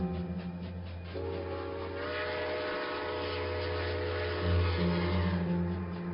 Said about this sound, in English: The train is close enough to feel its vibration.